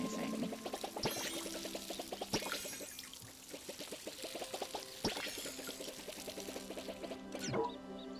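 A watering can pouring in the video game Palia, a steady trickling stream running throughout with light game effects and chimes over it, fairly quiet and with no talking.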